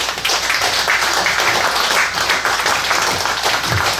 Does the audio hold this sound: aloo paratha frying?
no